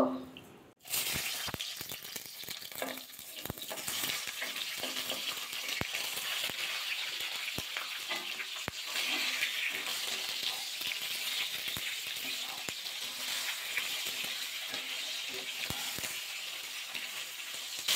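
Brinjal (eggplant) pieces sizzle in salted oil in a kadai, with a steady broadband frying hiss that persists throughout after a sharp start, marked by occasional crackles and pops.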